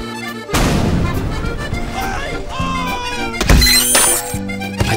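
A heavy-caliber, tripod-mounted gun fires in loud, booming thumps with ringing metallic tails, heard close amid mechanical clanks and tonal effects.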